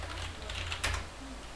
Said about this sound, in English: and then just type in the characters.